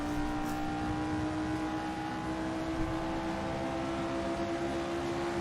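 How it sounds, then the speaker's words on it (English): Race car engine in the Assetto Corsa video game, a steady buzzing drone held at constant pitch, close and unbroken with no talking over it. "This car sounds like a doodle bug."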